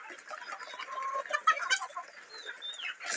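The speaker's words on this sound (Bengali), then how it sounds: "আরও অল্প কিছু মোরগ রয়েছে" A flock of chickens and roosters clucking close by, a busy overlapping chatter of short clucks and squawks with one high, drawn-out call near the end, no talking.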